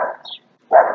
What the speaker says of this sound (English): please excuse all the dogs barking